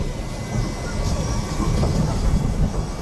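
A roller coaster train at Parc Astérix rumbles steadily along its track, a continuous low, rolling roar that stays fairly loud throughout.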